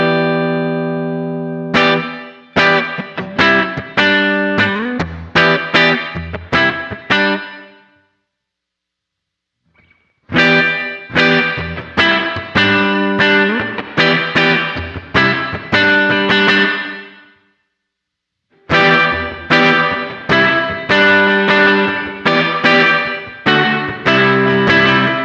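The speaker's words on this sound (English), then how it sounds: "The reverb side gives you the sound of a plate reverb." Electric guitar chords and notes through a Sonicake Levitate pedal's plate reverb ring out in three played passages with short silences between, washed in a smooth, lingering reverb tail.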